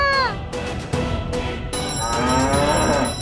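A cow moos in a long, drawn-out bellow set in a Hindi television drama scene, rising and falling over a few seconds with a fairly loud, close presence.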